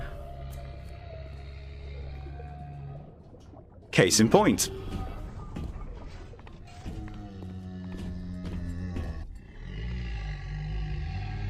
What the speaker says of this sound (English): The sound design for the Big Days is also amazing. The whale noise and heavy footsteps